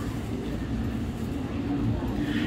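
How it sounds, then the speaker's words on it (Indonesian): Interior of a KRL commuter train in the Jakarta area while riding, with a steady low rumble and hum of the moving carriage, constant and moderately loud, with no clear voices. "Sekarang kita udah di KRL aja."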